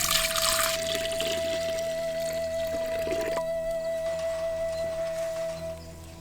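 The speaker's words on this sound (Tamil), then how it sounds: "இப்ப பிழிஞ்சு வச்சிருந்த பருத்தி பாலை பானையில ஊத்தி சூடு பண்ண ஆரம்பிச்சிடலாம்." Squeezed cotton seed milk pours into a pot for a traditional drink, heard as a close, steady liquid splash and trickle that settles into a softer flow over a faint background hum.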